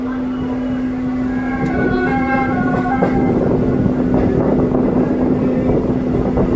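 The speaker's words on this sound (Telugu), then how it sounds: "మన ఎంఎంటీఎస్ వచ్చేసి చందానగర్ స్టేషన్ నుండి అయితే డిపార్ట్ అయిపోయిందండి" An MMTS local electric train pulling out of Chandanagar station near Hyderabad toward Lingampalli, with a loud steady rumble and a sustained motor hum, heard from onboard.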